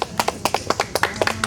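Close, sparse clapping from a few hands at a memorial gathering, with distinct individual claps in an uneven rhythm over a quiet room.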